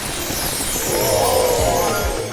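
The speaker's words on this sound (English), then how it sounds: "Pouring the hot water." Hot water pours steadily from nozzles onto a LEGO car in a small toy shower station, giving a continuous close splashing wash with a faint rising trickle.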